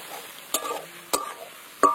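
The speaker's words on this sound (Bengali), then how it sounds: "দিয়ে এবার আমি মশলাটা ভালো করে কষিয়ে নেব।" Spice paste of ginger, cumin, dried and green chilli, turmeric and coriander sautéing in a pan, three sharp spoon scrapes spaced apart over a soft background sizzle, nothing spoken.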